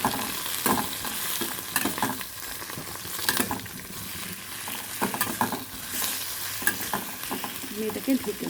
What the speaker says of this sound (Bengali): এবার এটাকে ভালো করে নেড়ে নেব।